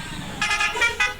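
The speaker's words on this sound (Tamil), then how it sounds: "என்னங்க நம்மளுக்கு அவர் ரெஸ்பான்ஸ் பண்ணி ஹாரன் போட்டிருக்காருங்க." Vehicle horn in the truck-driving video game Truck Masters India, sounding a few loud blasts: one long honk followed by a shorter toot, over a low engine hum.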